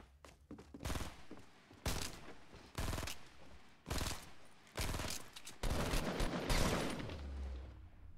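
Gunfire in the video game Fortnite: repeated loud bursts of shots, each lasting about half a second to a second, coming fast one after another, with a longer sustained volley near the end.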